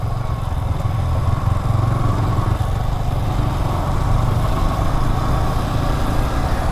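Yamaha R15 motorcycle engines, a v4 with its windshield removed and a v3, rumble steadily nearby with a continuous buzzy drone and no clear revving changes.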